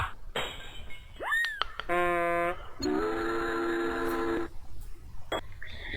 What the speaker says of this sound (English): Old train whistle.